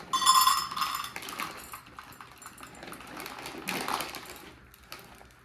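Semi-sweet chocolate chips scattered over saltine crackers in a pan patter and clink, a loud initial shower followed by lighter scattered taps and a second burst.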